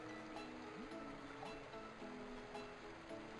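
Soft, continuous water sloshing and burbling in the Sonic Adventure 2 video game, a quiet steady wash with faint game sounds over it.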